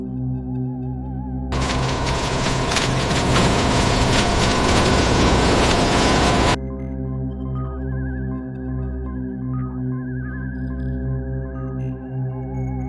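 A loud burst of rumbling, rattling train noise starts abruptly, holds for about five seconds, then cuts out, leaving a steady low hum and faint tones.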